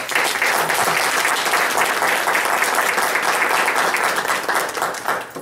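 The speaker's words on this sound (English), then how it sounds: "I want to give them a round of applause." An audience at a school board meeting bursts into loud, sustained applause, dense overlapping clapping that holds evenly for several seconds before easing slightly at the end.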